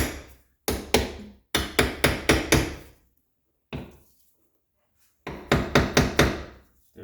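Hard hammer blows drive a new hinge pin into a door hinge on a vintage Honda Civic, in rapid bursts of four to six sharp metallic whacks separated by pauses, close and loud.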